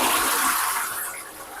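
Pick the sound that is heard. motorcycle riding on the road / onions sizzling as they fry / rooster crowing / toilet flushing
toilet flushing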